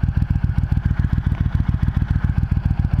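A motorcycle engine settles to a lower speed and gives a loud, close, steady low-pitched thumping pulse that throbs evenly throughout.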